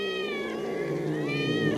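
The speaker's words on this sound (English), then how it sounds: "hope this meowing isn't the whole fucking movie" A cat meows in a film scene, giving a loud drawn-out wail that rises and falls without a break and sounds close, with no talking.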